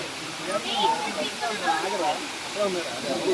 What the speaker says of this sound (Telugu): జలపాతం సౌండ్ అయితే అలా ఉంటుందో అని చెప్పి ఒరిజినల్ వాయిస్ అయితే పెట్టామండి